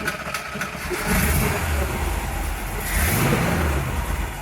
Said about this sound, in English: Testing out the Cadillac battery, see if it'll start the Chevy truck